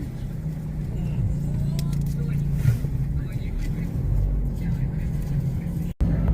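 A car driving along city streets, heard from inside the cabin as a steady low engine and road rumble that continues throughout, dropping out briefly near the end.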